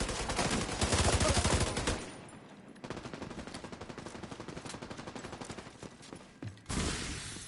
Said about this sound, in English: Because the gunner is too good with an LMG.